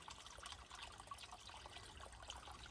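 A small stream of water runs downhill toward the ocean with a faint, continuous trickle heard close by. No other sounds compete with it.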